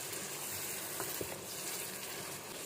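Minced meat keema for matar keema karahi sizzles and fries steadily in a karahi, a dense, continuous crackle with faint stirring scrapes, close and without talk.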